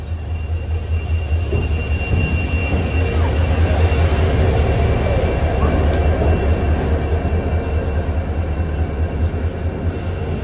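The Silchar–Guwahati Express pulls out of a station with a steady, heavy rumble and droning hum that runs unbroken throughout, loud and near, with faint high metallic tones above it.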